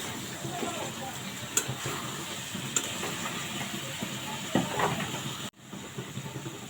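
Potatoes and vegetable stems tip into hot spiced oil and hiss with a steady, broad sizzle close up, a few clinks and stirring knocks breaking through, then a brief pause before the frying continues.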